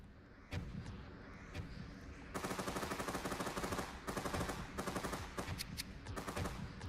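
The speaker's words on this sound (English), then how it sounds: "Oh, he's shooting me!" Enemy gunfire in a multiplayer shooter game, bursts of rapid automatic fire that grow louder and denser partway through, repeating in clusters with short gaps, close and harsh.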